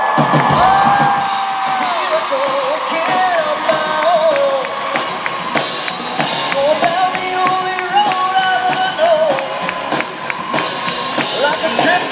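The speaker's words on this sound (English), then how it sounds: "a big fat round of applause for Mr. Jared Padalecki and Jensen Ackles" Convention audience in Pittsburgh applauding and cheering for Jared Padalecki and Jensen Ackles: a loud, sustained crowd roar with whoops and clapping filling the whole stretch, voices rising above it.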